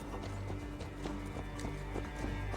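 Hooves clip-clop quickly in Assassin's Creed Valhalla as a horse gallops away, a steady run of soft beats heard at a moderate distance.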